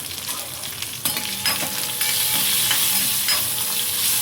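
Asafoetida, curry leaves and turmeric powder sizzle in hot oil, a loud, close, steady hiss and crackle with sharper spits as the spices are stirred in, continuing without any talking.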